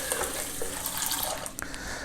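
Plain cold water is poured over boiled eggs in a pot to cool them, a steady rushing splash with a few drips near the end, close and fairly loud, with no talking.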